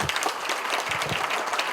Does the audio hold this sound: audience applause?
yes